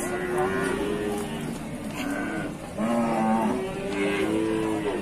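Jabres cattle low several times, drawn-out moos rising and falling at close range, with people talking faintly in the background.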